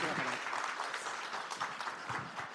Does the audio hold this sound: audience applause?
yes